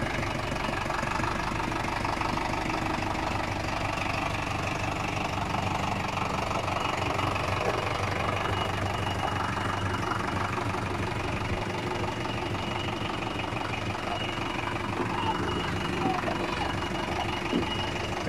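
A Zetor tractor engine runs steadily in fourth gear, a continuous mid-low mechanical drone with a slight knocking texture that stays loud and constant throughout, with some voices underneath.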